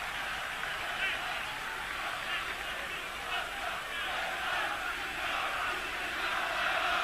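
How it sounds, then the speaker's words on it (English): Football stadium crowd at a Euro 2000 qualifier between Yugoslavia and Macedonia, a broad, steady roar of many distant voices swelling and easing in waves for several seconds, with no clear speech. "Crowd are getting a little anxious here. They're starting to rise and fall with the kick of every ball."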